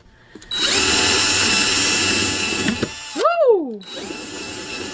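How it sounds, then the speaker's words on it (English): Power drill boring a hole through the middle of a plant pot: a loud steady whine for about two seconds, a pause, then a short rising-and-falling rev before the motor spins up again, close by. "I'm gonna drill one in the middle as well."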